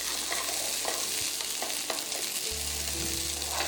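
Corn kernels fry in hot oil in a pan, a dense continuous sizzle with light stirring scrapes, close and steady with no talk.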